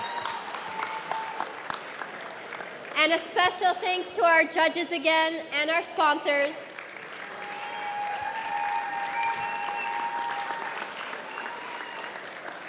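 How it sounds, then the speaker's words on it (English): Audience applause at a startup demo day awards event in Miami, a steady wash of many hands clapping in a hall that follows a spoken thank-you and continues under the room. "One more round of applause for everyone."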